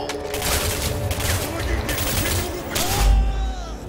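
Rapid bursts of shotgun fire crack in quick succession amid loud game noise in the video game Singularity, with a final heavy blast near the end.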